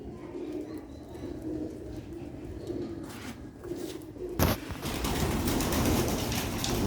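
Pigeons kept for sale coo softly in repeated, rounded calls close by, with louder broadband noise washing in over the second half.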